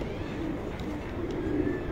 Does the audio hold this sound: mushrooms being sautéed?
no